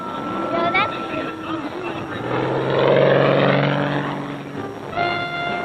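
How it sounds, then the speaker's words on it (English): An aerobatic propeller plane tumbling end over end in a Lomcevak manoeuvre gives off a loud, varying engine roar that swells in the middle and shifts in pitch, while a voice talks over it. "Art forces the plane to tumble end over end as it plunges to the ground"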